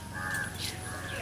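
Crows caw in the open, a few harsh calls from moderately near, over faint background noise.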